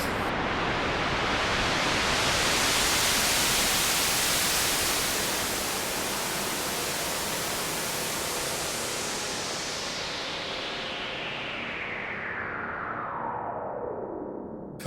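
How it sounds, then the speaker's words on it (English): Steady broadband white noise hiss fills the whole stretch, loud and continuous with no talk, its brightness slowly rolling off toward the end. "Alex, could you just put some white noise in right now"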